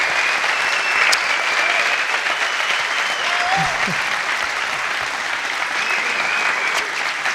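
Sustained, dense applause from a crowd fills the whole stretch, loud and even, with faint voices and whistles mixed in.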